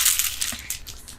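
Beads woven into hair shaking, a brief bright rattling clatter over about a second, close and fairly loud, with no talk.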